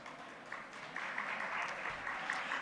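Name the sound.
audience applause at conference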